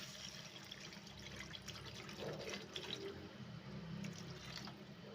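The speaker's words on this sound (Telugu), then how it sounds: "అది వేసాక ఒక 2 మినిట్స్కి మనం వాటర్ యాడ్ చేసుకోవాలి ఫ్రెండ్స్" Water pours into a pan of tempering for semiya upma, a steady close splashing and trickling fill that runs evenly for several seconds with no talk.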